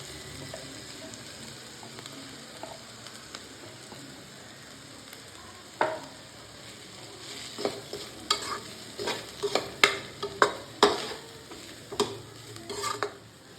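Grated coconut and onions fry in a pan with a quiet sizzle, then a spoon scrapes and stirs in a series of sharp, close clacks during the second half.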